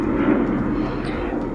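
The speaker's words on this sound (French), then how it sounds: "parce qu'il y a l'avion quand même" Airplane passing overhead outdoors, a steady broad rumbling roar that holds at an even level throughout without a clear peak.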